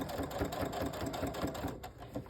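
Home sewing machine stitching slowly around curves while machine-quilting a layered, basted quilt, a steady rapid needle chatter running continuously and fairly close throughout.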